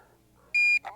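Two loud, steady electronic warning beeps from a DJI Air 2S drone controller signalling return to home, the first long and sustained, the second cut short, with a brief chirp between them over quiet background.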